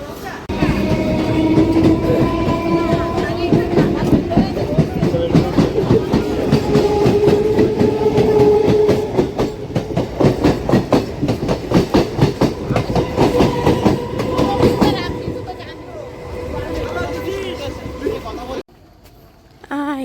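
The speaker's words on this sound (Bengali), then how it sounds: "ট্রেনটা মোটামুটি ভালোই তাড়াতাড়ি আসছে এখন আছে চাকদাতে চাকদা ছাড়লো" A moving passenger train leaving Chakdah, heard from close by or on board as a loud continuous rumble with rapid clickety-clack wheel beats that fade before a brief drop, with a voice talking over it.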